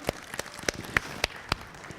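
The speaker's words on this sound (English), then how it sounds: "I want to give her a little applause for her volunteer work." A small gathering at a school parent liaison meeting gives a brief round of applause for a volunteer: a handful of sparse, separate claps spaced irregularly, fairly close and light, with no voices.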